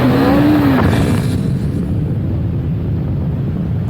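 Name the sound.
KTM RC390 single-cylinder motorcycle engine while riding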